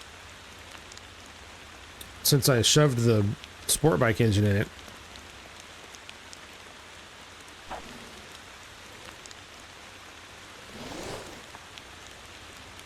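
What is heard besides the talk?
rain in a video game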